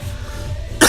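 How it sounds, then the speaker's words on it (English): A single short, sharp cough lands right at the end, close and loud, after a quiet stretch of low room hum. "Got a cough in the background."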